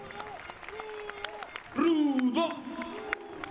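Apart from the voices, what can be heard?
wrestling arena crowd applauding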